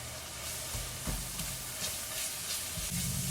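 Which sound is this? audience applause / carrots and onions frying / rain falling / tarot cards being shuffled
carrots and onions frying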